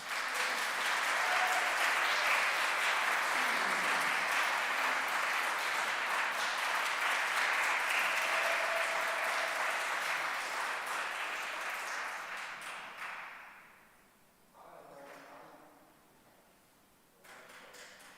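Audience applause after a reading at a poetry festival, a long, full wash of many hands clapping steadily, then tapering off into scattered claps and a brief renewed burst before fading.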